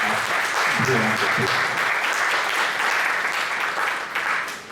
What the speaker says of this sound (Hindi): सुभाष जी के लिए एक जोरदार तालियां